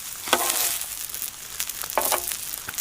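Steak sizzling over a campfire at a hammock camp, a steady, fairly quiet frying hiss broken by a few brief crackles and pops.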